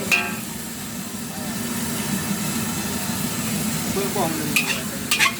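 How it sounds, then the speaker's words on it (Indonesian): Wet Aceh noodles are stir-fried without egg at a street stall in Aceh, giving a continuous sizzle and scraping stir under a steady low hum, with a few sharp metallic clinks near the end. "Ini mie Aceh goreng basah teman-teman."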